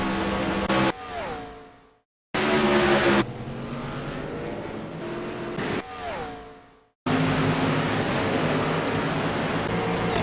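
Race cars wrecking at Daytona in a racing video game: loud engine roars with falling pitch sweeps as cars spin, cut by two abrupt silences, then engines blaring again, with no talk.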